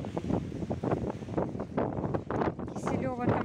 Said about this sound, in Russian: Ветерок здесь такой сильный.